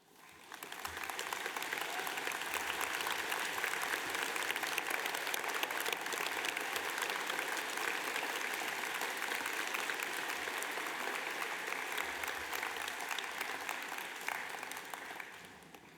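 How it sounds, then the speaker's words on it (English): Sustained applause from a large crowd at a university graduation ceremony, steady and full for the whole stretch without any voices rising above it. "give them a huge round of applause"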